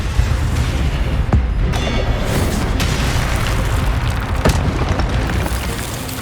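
Spell blasts in Hogwarts Legacy boom and crackle in a dense, loud, continuous barrage of explosions, with occasional sharper bursts cutting through.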